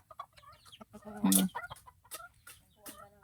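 Farm chickens cluck in short, scattered bursts close by, with one louder squawk in the middle, while people talk quietly nearby.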